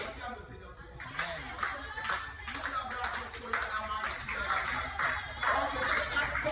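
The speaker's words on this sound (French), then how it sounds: "Acclame le Seigneur, s'il te plaît." A church congregation claps and applauds in praise, a dense, steady patter of many hands that swells slightly and carries on through the whole stretch, with voices mixed in.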